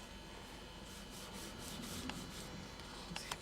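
Soft, continuous rubbing as powder is worked into wax on an encaustic painting with a stocking, a faint close friction hiss with a few small taps near the end, no talking.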